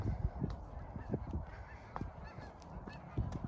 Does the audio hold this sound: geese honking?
yes